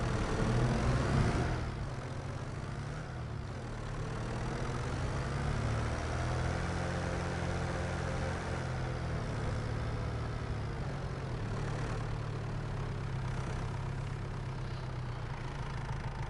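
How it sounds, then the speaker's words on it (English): A tractor engine in the farming game Farming Simulator 25 runs at a steady idle, with a continuous low drone that holds even and unchanging throughout, with no talk over it. "Now let's take the tractor here."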